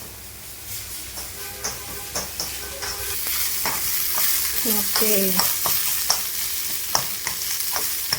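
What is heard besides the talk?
onions frying in pan for dried anchovy roast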